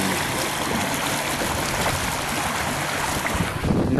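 Sailboat under way on open water with a family aboard, a constant loud rush of wind buffeting the microphone over splashing water and waves, steady throughout with no talking.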